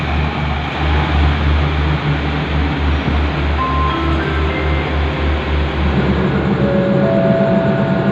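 Thai rapid train no. 109 arriving at night at Nakhon Lampang station, a loud continuous rumble with rhythmic wheel clatter and steady engine drone, close and unbroken.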